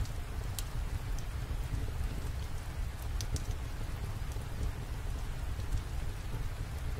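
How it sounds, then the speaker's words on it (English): Rain patters against a window pane in a steady, dense wash of close drops, with a low rumble beneath and no voices. "you listen to the rhythm of the rain outside, feeling the gentle patter against the window pane"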